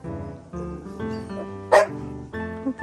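A dog barks and yips at a pig a few times at moderate distance, with whining tones mixed into a steady background hum.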